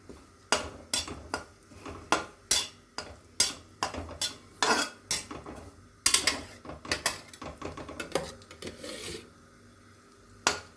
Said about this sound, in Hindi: नारियल को अच्छी तरह से भून लूँगी